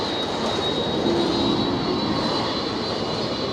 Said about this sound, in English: 737 in from Aberdeen, bringing in post.